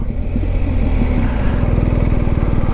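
A BMW 1250 GS motorcycle engine runs close by at low speed, a steady pulsing thrum that turns into a rapid, even putter toward the end, with no voices.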